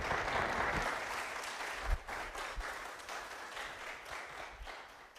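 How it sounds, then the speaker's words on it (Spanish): Congregation members at a Sunday church service applaud to welcome visitors, a moderately loud patter of many hands with a few sharper individual claps, gradually thinning toward the end. "por favor, hermanos, con un aplauso."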